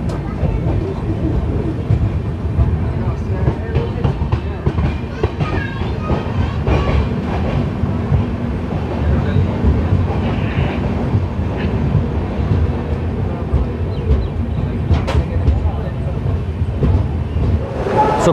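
Hirakhand Express sleeper class coach rolling through monsoon country between Rayagada and Jagdalpur, a steady loud rumble with rhythmic clickety-clack of wheels over rail joints throughout, close and continuous.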